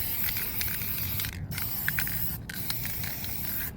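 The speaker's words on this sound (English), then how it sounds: "first I'm going to go in with the black, and really you just kind of spritz it" Black paint spritzed in short hissing bursts from a spray bottle onto a Halloween headstone prop, close and fairly quiet, with a few brief pauses between sprays.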